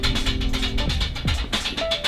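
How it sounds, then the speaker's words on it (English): Kottu roti is chopped on a griddle at a Sri Lankan street food stall, rapid metallic clatter of blades running steadily through a busy, noisy background. "you can hear him going in the background, chopping the kottu"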